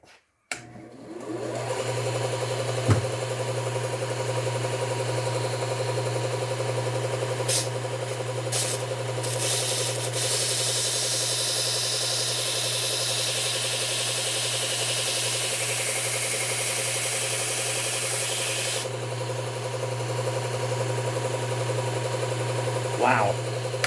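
A Cubitron belt on a belt sander runs steadily as garden loppers are sharpened, a constant motor drone with intermittent grinding bursts as the blade meets the belt, close and loud with no talking.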